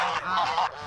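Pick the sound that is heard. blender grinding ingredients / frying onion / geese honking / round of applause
geese honking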